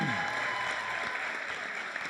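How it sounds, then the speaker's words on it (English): Audience applause for the teams at an entrepreneurship competition, a brief, steady wash of clapping at moderate level with no voices. "How about one last round of applause for all the teams today?"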